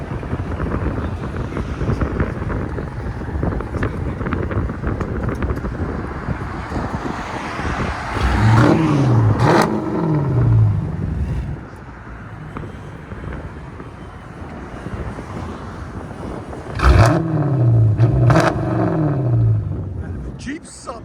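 A 2015 Jeep Grand Cherokee Summit 5.7L HEMI V8 with X-pipe and straight-pipe exhaust revs up twice, each time a loud, rising then falling roar over steady wind noise.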